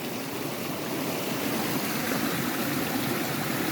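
Fresh mountain stream water flowing on a hike, a steady, full rushing wash that holds constant and close throughout with no voices.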